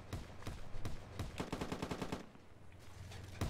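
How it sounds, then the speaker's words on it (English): Faint, rapid gunfire in the Roblox game, a run of close automatic shots crackling in quick succession with a few single shots spaced around it, no talking. "I shoot at them."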